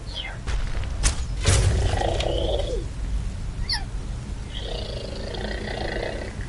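A child makes rumbling, growly purring noises imitating a cat, in a few breathy bursts, with a high squeak in between.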